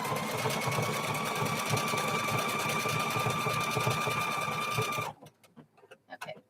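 A sewing machine stitches a denim quilt seam made from old jeans, running in a steady, close, continuous whir for about five seconds before stopping, followed by a few faint handling sounds.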